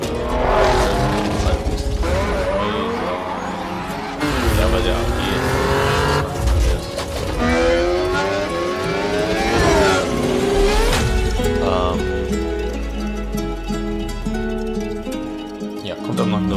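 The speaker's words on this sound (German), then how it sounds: "Okay, wir sehen jetzt einen Forza Gameplay Trailer." Racing cars roar and squeal their tires through a Forza gameplay trailer, with engines loud and continuous under music while a person talks over them.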